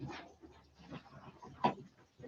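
A female puppy whimpering quietly in short, uneven bursts, with one sharper, louder yelp near the end.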